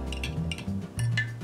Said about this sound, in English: I'm going to mix in 1 package of dry yeast to the milk. Just stir it up